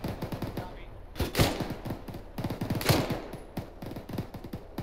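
Rapid automatic gunfire in ArmA 3 during a large-scale co-op military operation, a fast steady stream of shots with a few louder, heavier bursts standing out, fairly close and continuous.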